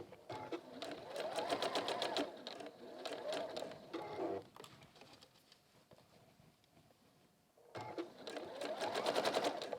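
A domestic sewing machine runs through pinned fabric in quick, even bursts of stitching, pausing midway and starting again near the end, fairly close and moderately loud.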